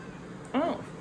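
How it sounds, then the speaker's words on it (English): A cat gives a single short rising-and-falling meow indoors in a craft room under clean-out, fairly quiet and brief. "That was hello in cat language."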